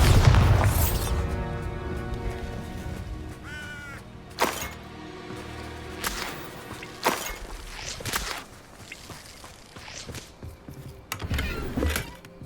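Confringo and Bombarda spell blasts in the Hogwarts Legacy video game: a deep boom at the start followed by a series of sharp bursts and crackling impacts spread across the fight, with game music underneath.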